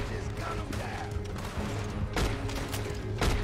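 Gunfire in Red Dead Redemption 2 during a coach robbery, with a few sharp shots cutting through a dense game soundscape and spoken voices running underneath.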